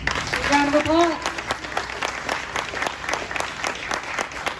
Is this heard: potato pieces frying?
no